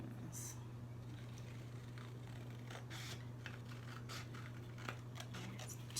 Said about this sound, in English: So we're going to cut all the solid lines.